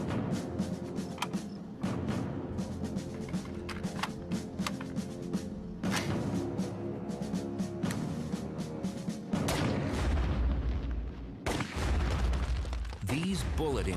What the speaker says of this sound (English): These bullet impacts are comparable to the collisions in the asteroid belt.